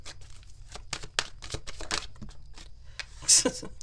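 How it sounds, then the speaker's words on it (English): Tarot cards are shuffled and riffled close by, with crisp papery flicks and crinkles, followed by a sharp snap near the end. "one more shuffle here"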